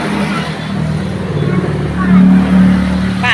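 A motorbike passes on a road under repair with holes, its engine note rising to a peak near the end amid other traffic, with people talking over it.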